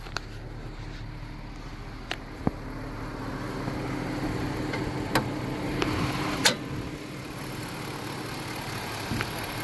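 A Chevrolet Z71 truck engine idles quietly and steadily, a low continuous hum with a few sharp clicks and knocks scattered over it, heard at close range without talking.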